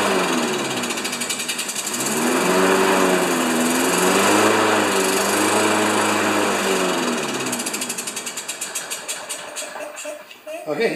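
A Briggs & Stratton Craftsman 6HP lawn mower engine runs up close on a lift, its buzzing drone surging and steadying before sputtering down into uneven chugs at the end.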